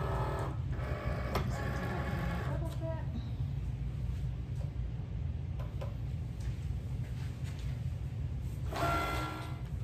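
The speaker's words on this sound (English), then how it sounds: "our Cricut has finished working its cutting magic" Cricut machine cutting Sport Flex iron-on vinyl at default pressure, a steady mechanical whirring hum with short bursts of carriage movement at the start and end, under occasional talking.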